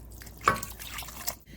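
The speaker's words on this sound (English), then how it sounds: "I'm just going to add in water." Water is poured into a pot of lemon artichoke soup, a soft splashing trickle with a brief louder splash near the start, faint and close.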